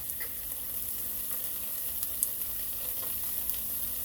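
Chopped garlic sizzles in a pan with softened onions, carrots and celery, a steady close frying hiss with faint crackles and occasional small pops throughout, no voices.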